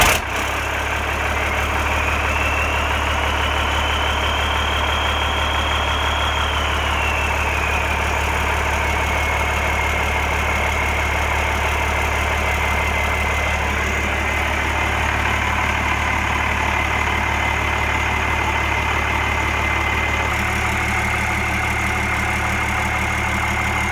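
A converted bus engine idles after an oil change with roughly 21 quarts added, a steady, deep rumbling drone with a faint higher whine, continuous and close, no voices.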